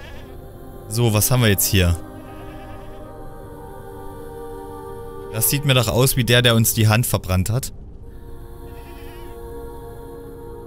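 A goat bleats twice in the Mundaun horror video game, loud and close, with each wavering call lasting about a second. Someone speaks before and between the bleats.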